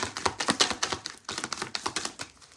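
Tarot cards shuffled by hand in quick, crisp riffling bursts of soft papery taps and flutters, close and fairly clear with no talking.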